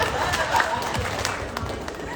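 Audience at a panel event in Nordstrom NYC claps briefly, a quick patter of hands with a few voices mixed in.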